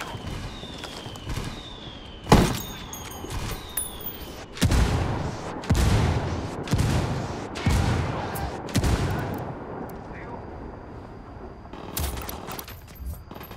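Rifle shots and a sustained exchange of gunfire from a sniper engagement in Ghost Recon Wildlands, with one sharp close crack followed by repeated bursts of shooting and explosive reports, loud and busy against background ambience.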